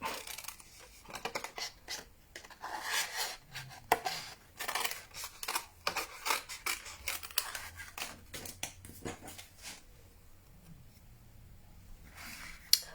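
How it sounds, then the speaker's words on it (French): Scissors snip paper in short, quiet, close cuts, with occasional crinkles of paper, while a decoration for a paper lollipop treat is cut out. The rhythm is irregular. "Et après, je suis venue découper."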